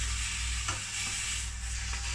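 Pork shank in Chinese five spice sizzles in a heating pan for Kah Moo Paloh, a steady quiet hiss and crackle with a few soft stirring scrapes, close and alone.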